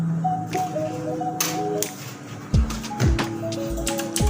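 Mechanical keyboard with blue switches giving a few sharp clicky keystrokes, close and fairly loud, over a steady background hum and tonal noise.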